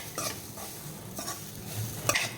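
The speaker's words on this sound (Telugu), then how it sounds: "దీన్ని కూడా లైట్గా ఫ్రై చేస్తాం. లైట్గా రోస్ట్ చేసుకొని" An ingredient for rava laddu is lightly fried and roasted in a pan, heard as soft, quiet scraping strokes of a stirring spoon over a faint low sizzle, with the stirs coming at irregular intervals.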